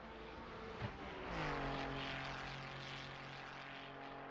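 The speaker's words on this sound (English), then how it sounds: "the engine noise is just absolutely crazy" A race car engine in Assetto Corsa Competizione at the Nordschleife roars with a steady pitch that climbs and holds, droning continuously with a buzzy, mechanical tone throughout.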